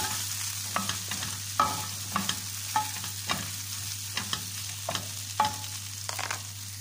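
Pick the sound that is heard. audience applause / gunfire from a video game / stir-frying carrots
stir-frying carrots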